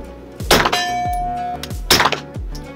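Two suppressed shots from a 9mm Glock fitted with an A-TEC silencer, using standard ammunition, each a sharp muffled thump followed by a short ringing tail, about a second and a half apart.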